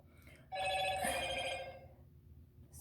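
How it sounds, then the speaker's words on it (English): A telephone rings indoors with one bright, trilling bell burst lasting about a second and a half, moderately loud against a quiet background, then fading out. "my phone just went off"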